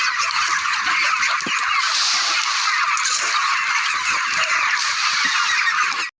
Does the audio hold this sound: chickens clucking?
yes